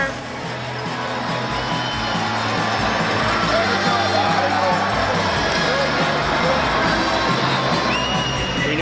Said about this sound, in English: Stingrays pumping up this crowd